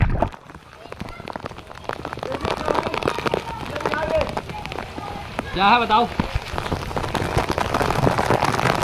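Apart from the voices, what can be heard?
artificial rain shower falling into water park pool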